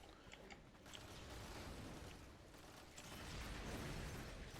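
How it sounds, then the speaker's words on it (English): Dense, continuous bursts of explosions and rapid gunfire from a Warframe firefight, with napalm and bombard blasts filling the space; a steady loud roar of overlapping pops and booms with no pauses. "Look at all the friggin' explosions and gunfire."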